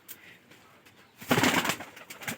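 Rajshahi Giribaz pigeons coo in a short, moderately loud burst in the second half, after a quieter stretch of faint background noise.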